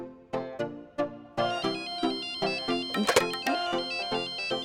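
A mobile phone ringtone sounds for an incoming call, a bright repeating melodic tune that plays on loudly and continuously with no one speaking.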